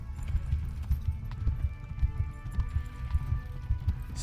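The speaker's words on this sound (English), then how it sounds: "Slowly riding a horse away from people with bows." Steady clip-clopping hooves of a horse at an even trotting rhythm in the video game Kingdom Come: Deliverance, close and continuous, over a soft background hum.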